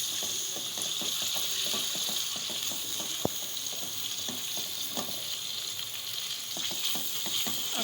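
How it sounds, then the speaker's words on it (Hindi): Chopped garlic and ginger sautéing in hot oil in a pan, a steady close sizzle overlaid with rapid clicking and scraping as the spoon stirs, continuous and fairly loud with no talking. "थोड़ा गर्म हो जाएगा तो इसमें ये लहसुन अदरक डाल दिया। इसको थोड़ा सा सौते कर लेंगे।"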